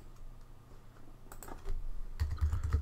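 Keys clatter on a computer keyboard while a phrase is entered into a website plugin search, starting with faint scattered taps and building into a denser, louder burst of keystrokes near the end.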